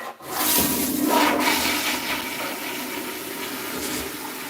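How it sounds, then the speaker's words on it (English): A toilet flushes in a steady rush of gushing water that surges early and settles into a continuous lower wash over a few seconds, with no talking. "Let it flush away down the water."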